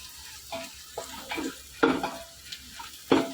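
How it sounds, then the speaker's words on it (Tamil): Onions fry for chicken biryani, with intermittent scraping stir strokes of a spoon against the pan over a soft background sizzle, each stroke close and distinct. "இப்போ நல்லா பொன்னிறமா வறுக்கணும்"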